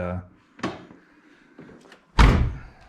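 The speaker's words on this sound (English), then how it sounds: "nice tight seal on the door there." A Ford SVT Cobra car door slams shut with a solid, heavy thunk after some faint handling sounds, close and loud.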